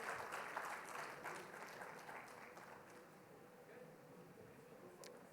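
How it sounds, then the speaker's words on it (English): Conference audience clapping for a panel session on secure digital government infrastructure, a faint, steady patter of many hands that slowly tapers off. "Ladies and gentlemen, huge round of applause, please,"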